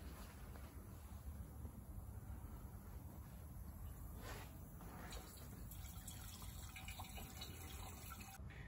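A liquid mixture trickles and splashes through a funnel into the boiler of a batch distillation still, a soft continuous pouring sound, fairly quiet with no talking.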